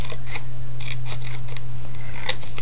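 Short bursts of snipping and crisp paper rustle close by, irregular in rhythm, over a constant low hum.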